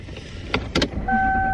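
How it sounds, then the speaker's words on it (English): A car that fails to start, with a couple of short whirring bursts from the ignition or starter and then a steady electrical tone with thin high whines, all close by. "why isn't my car turning on?"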